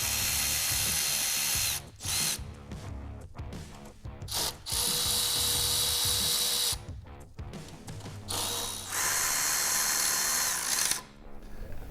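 Power and ratchet tools remove the brake from a motorcycle swingarm, loud close whirring bursts of a few seconds each, broken by short pauses and clicks.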